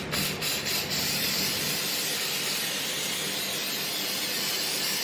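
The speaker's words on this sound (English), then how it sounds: "and we're using Pam spray." A cooking oil spray can gives a steady, loud aerosol hiss close by for several seconds, with a few faint clicks at the start and no talking.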